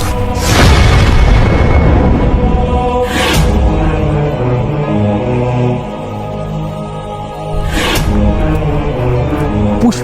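Bomb blast explosion effect: deep booming detonations, a heavy one at the start followed by two sharper bursts a few seconds apart, loud with rumbling low-end between hits.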